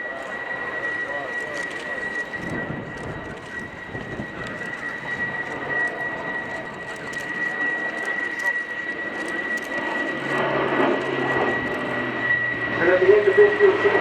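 Airbus A400M military transport aircraft flying a display at the Royal International Air Tattoo at Fairford, a steady engine drone that swells louder toward the end, with a commentator talking over it throughout.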